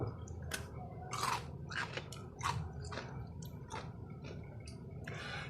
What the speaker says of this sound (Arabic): الخيار بصوا مقرمش برضو